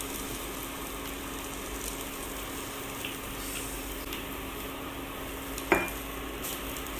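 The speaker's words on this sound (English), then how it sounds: "Now just mix it again once more" A mixture with ketchup being stirred in a pan, giving a steady low sizzle and soft scraping throughout, with one sharp knock of the spoon against the pan near the end and no talk.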